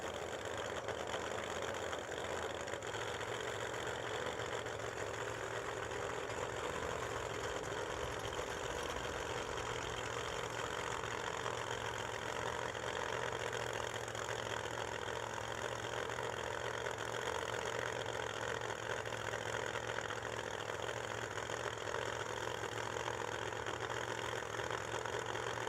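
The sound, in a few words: Pro Mod drag racing cars idling at the start line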